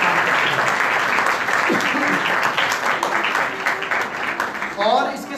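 A church congregation at a Sunday service applauds young decorators, steady dense clapping filling the room throughout, with a few voices and brief tonal sounds near the end.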